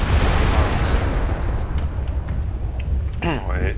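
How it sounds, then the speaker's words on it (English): Cluster bombs dropped by a bomber in MWLL rumble as a dense, continuous roll of low explosive booms and crackling bursts, loud and close, with a short voice-like sweep near the end. "He dropped cluster bombs as quickly as he wouldn't have a chance to reload."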